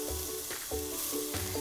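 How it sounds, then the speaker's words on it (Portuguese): Garlic cloves and onion frying in olive oil in a pan, a steady close sizzle with soft stirring knocks and scrapes recurring every half second or so. "A gente vai colocar 3 dentes de alho pra fritar. Olha o barulhinho."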